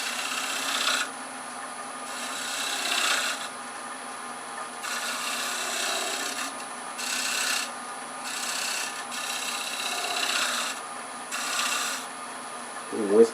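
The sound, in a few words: wood lathe shear scraping a Bradford pear bowl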